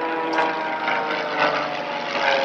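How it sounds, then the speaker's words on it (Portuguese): An airplane passes overhead as a steady, loud engine drone that stays constant, swelling slightly a few times through the stretch, with no talk over it. "Os aviões vai vir passar na sua cabeça."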